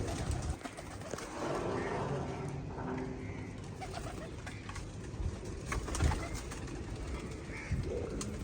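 Soft, low pigeon coos repeat intermittently over a murmuring background of ambient noise and faint activity.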